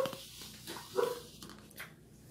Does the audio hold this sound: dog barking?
yes